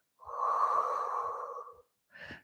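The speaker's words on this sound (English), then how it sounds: "Excuse me sniffling." A person sniffling during a standing Pilates leg workout, one long drawn nasal inhale followed by a shorter second sniff, close and fairly quiet.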